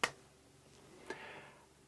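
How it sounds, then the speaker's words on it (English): A single sharp hand clap in a listening room to test its echo, a quick snap that fades fast, then a softer faint click about a second later, otherwise near silence. "sit in that favourite listening chair and clap your hands."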